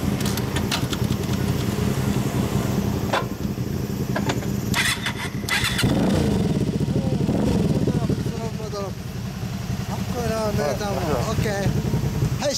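A Honda Xelvis MC25 motorcycle with a Super Trap muffler runs loud and close, its engine note rising and falling with revs, while people talk over it.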